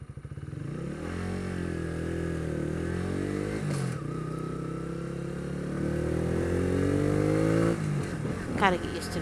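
A motorcycle is ridden, its engine droning with rising and falling pitch through gear changes over steady wind noise, close and continuous, with a voice speaking near the end.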